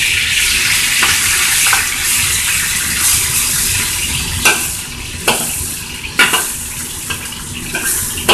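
Pork chops fry in a pan with a steady, loud sizzle, and a few clicks and scrapes come through as the chops are flipped over, with no talk.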